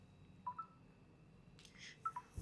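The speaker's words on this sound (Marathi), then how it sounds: "थांबा, त्यांना फोन लावते." Phone number dialed on a telephone keypad, two pairs of short electronic tone beeps with a soft tap between, quiet and close, no talk.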